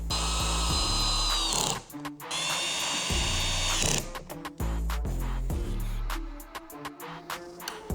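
A power tool bolting down a carbon fiber door vent on a Corvette C8, several close bursts of whirring drill motor separated by short pauses, ending in quick clicking ratchet pulses.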